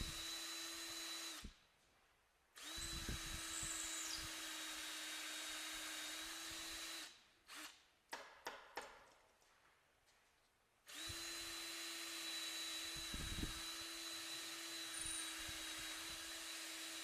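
A power drill whines steadily as the side of its bit cuts tool steel, stops briefly, then runs again, with a stretch of short stuttering bursts in the middle before the steady drilling resumes.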